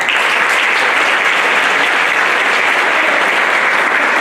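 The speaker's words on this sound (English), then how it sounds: "give her a round of applause" A large crowd applauds steadily and loudly at a school band concert, continuous clapping sustained throughout without pause.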